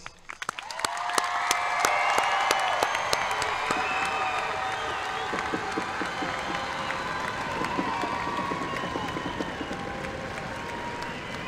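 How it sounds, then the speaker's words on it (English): Graduation crowd at Dunnellon High School applauds the class of 2021, clapping and cheering swelling quickly and then holding steady, broad and echoing as in a large venue, with scattered shouts over it. "Everyone, please join me in giving our class of 2021 a round of applause."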